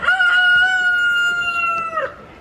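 Backyard rooster crowing one long, loud, close cock-a-doodle-doo lasting about two seconds, with faint clucking from the hens around it.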